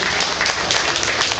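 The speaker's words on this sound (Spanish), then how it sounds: "Un aplauso, por favor, al maestro René del Valle." Audience applause for René del Valle at a Mexican classic comics event, a dense, loud, continuous burst of clapping over a short stretch.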